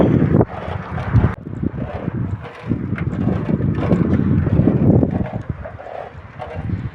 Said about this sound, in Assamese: বতাহ আজি পুৰা দি আছে বতাহ পুৰা দিছে